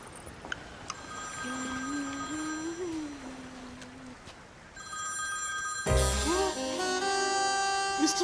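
Telephone ringing after a call is placed: repeated electronic ring tones over steady background noise, then a louder burst of mixed sound and music-like tones toward the end.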